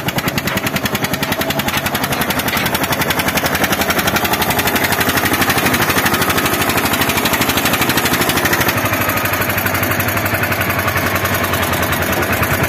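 An Eicher tractor's diesel engine runs after a push start, its loud, rapid chugging continuing steadily and close up throughout.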